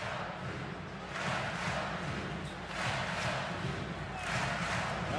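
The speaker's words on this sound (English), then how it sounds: "Now the crowd keeping its energy here inside Cameron Indoor Stadium" A basketball crowd inside Cameron Indoor Stadium at a Duke–North Carolina game roars in loud, swelling waves of cheering and shouting that rise and fall together, dense and close, with a voice talking over it.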